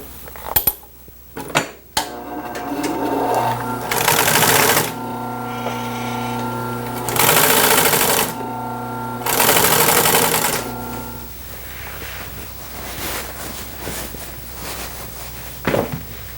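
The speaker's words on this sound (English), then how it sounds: "Stitch the panels together." A sewing machine stitches upholstery cushion panels for a 1930s Art Deco chair restoration, running in three loud, steady whirring bursts of a few seconds each, with clatter and handling noises between them.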